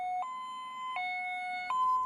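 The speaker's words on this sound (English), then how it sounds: "If you hear this siren in your neighborhood, you need to be prepared to evacuate immediately." Emergency evacuation siren sounding in a Santa Barbara neighborhood, a two-tone pattern alternating between a high and a lower pitch roughly every three-quarters of a second, steady and clear with no voices.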